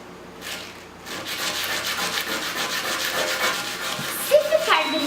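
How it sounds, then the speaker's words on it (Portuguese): Sandpaper is rubbed against a suspected meteorite stone with a dark crust, making a steady, close rasping scrape that runs almost the whole time. A few sharper scuffs come near the end. "Vamos lixar para ver?"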